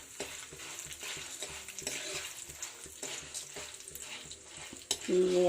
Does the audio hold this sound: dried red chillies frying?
yes